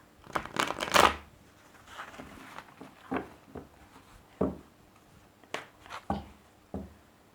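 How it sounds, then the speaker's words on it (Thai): Tarot cards being shuffled for a Thai weekly fortune reading: a series of crisp riffling and slapping bursts, loudest near the start, then softer scattered card flicks and taps close by, with no voice. "เดี๋ยวขออนุญาตสับไพ่แป๊บหนึ่งนะคะ"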